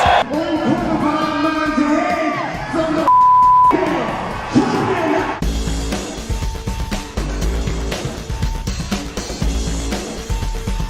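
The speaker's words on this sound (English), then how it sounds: "Listen to the crowd." A large UFC arena crowd roars and cheers continuously, with yells and whoops rising over loud music and a brief electronic beep.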